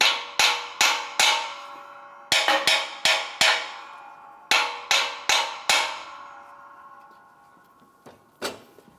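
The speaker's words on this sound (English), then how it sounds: "Use a small hammer to cause some vibration." A small hammer taps sharply on a front wheel bearing assembly of a 2011-2020 Toyota Sienna, striking in quick clusters of three to five ringing metallic hits with short pauses, close and alone, then two fainter knocks at the end.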